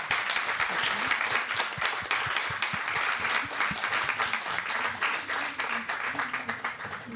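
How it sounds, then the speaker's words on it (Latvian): An audience at a panel discussion on parenting breaks into applause, many hands clapping at a moderate level in a lively, uneven patter that thins slightly toward the end. "Vēlreiz aplausi par drosmi padalīties ar savu stāstu."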